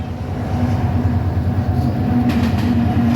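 A train passing through thick fog, heard as a loud, continuous low rumble and rolling rail noise close by, with a faint rhythmic clatter toward the end and no talk.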